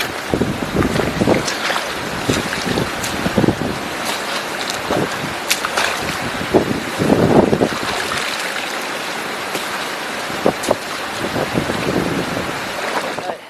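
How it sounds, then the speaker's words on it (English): Water rushes and gurgles steadily through a freshly cleared hydro dam channel, loud and close, with wind buffeting the microphone and occasional splashing surges. "there we go, back flowing where I want it again"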